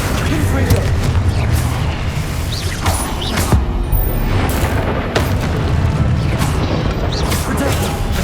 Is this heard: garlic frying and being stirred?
no